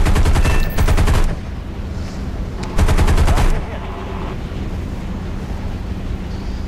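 Machine gun fire from a P-47D fighter plane in the War Thunder video game, two rapid bursts about two seconds apart with loud, evenly spaced shots over a steady wind-like roar of the aircraft.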